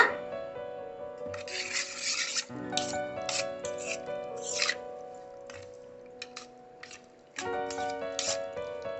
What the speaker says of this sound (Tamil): இப்போ இந்த மசாலாவை நம்ம சுத்தம் பண்ணி வச்சு இறவில் போட்டுக்கலாம் இதை நம்ம கலந்துக்கலாங்க